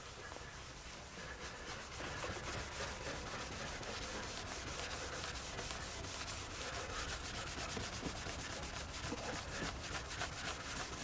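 Car headlights are rubbed and wiped during restoration, giving a continuous close scrubbing and rubbing sound that holds steady for about ten seconds, with no talking.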